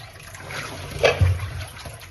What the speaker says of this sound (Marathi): आता हे पाणी खाली ओतून द्यायचे